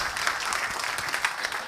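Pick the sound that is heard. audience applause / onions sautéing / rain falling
audience applause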